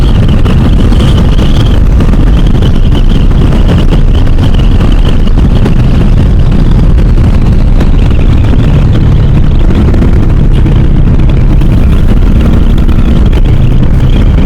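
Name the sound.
Bajaj Dominar 400 motorcycle riding on highway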